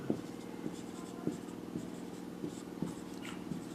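Hand writing on a board during a chemistry lesson: about seven soft, evenly spaced strokes and taps, close but faint, over a low steady room hum, with no one talking.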